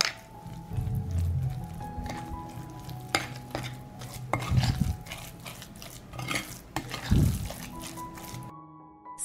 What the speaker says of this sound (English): I'll mix it all up.